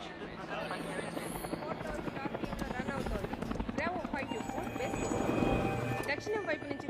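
A Scorpion gunship helicopter from the film Avatar lands on a runway, its steady rotor drone filling the scene alongside dense layered effects and voices.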